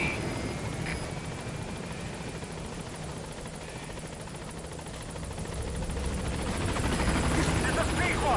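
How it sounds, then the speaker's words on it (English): A helicopter in Metal Gear Solid V: The Phantom Pain drones steadily throughout, its rotor and engine a dense, continuous roar that swells slightly louder near the end, with no talk over it. "Alright, let's go on the heli."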